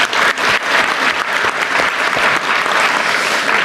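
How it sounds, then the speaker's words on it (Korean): Loud, dense audience applause at a South Korean provincial public forum as a governor is introduced, a continuous close wash of many hands clapping with no speech over it. "박수 한번 주세요."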